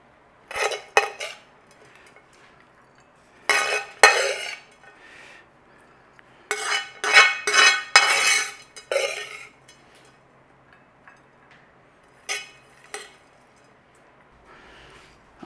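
Spoons and metal cutlery clatter against plates and pans while lemon aval poha is served, in several clustered bursts of clinking and scraping, near and fairly loud, with quiet pauses between.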